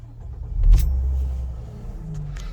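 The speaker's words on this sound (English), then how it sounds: "that 6-cylinder engine V6 purrs into life" A 2003 Mercedes SL350 R230 convertible with a 3.7 V6 starts up nearby, a brief cranking surge settling into a low, smooth, steady idle rumble.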